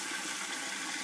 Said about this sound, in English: the water pops out the end here into the tank